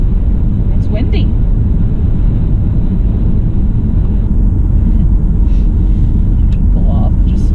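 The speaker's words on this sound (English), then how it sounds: "It's windy." Strong wind roars and buffets steadily on the west side of Rocky Mountain National Park, Colorado, a constant low rumble with gusty noise over it.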